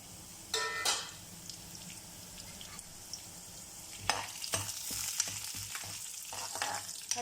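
Chana dal, urad dal, red chillies and coriander seeds frying in oil for a wedding-style sambar masala, a steady soft sizzle with occasional spoon stirs and scrapes against the pan, close up and without talk.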